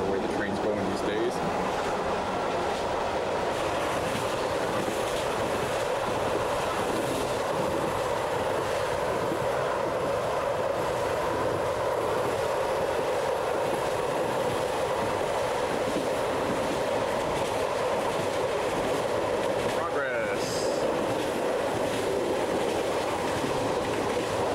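Train rolling along the rails through the Tatra hills near Poprad, heard from inside the passenger car as a steady, loud rumble with a faint rhythmic clatter; a brief squeal or rush is heard near the end, and a voice talks over it.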